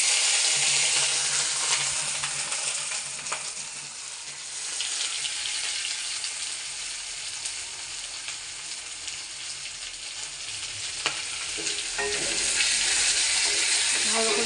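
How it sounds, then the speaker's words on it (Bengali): Onion, tomato, ginger and green chili fry with cumin in a pan, producing a loud, dense, continuous sizzle up close with occasional stirring clatters and no speech. "ভালো করে ভেজে নেব।"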